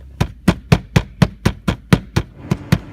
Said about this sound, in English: what you can do is just tap on the blower motor a little bit